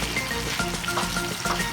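Chicken with soy sauce and vinegar in a pan gives a continuous close, bubbling sizzle as it is stirred, with a brief clatter of the utensil mid-way; no one talks.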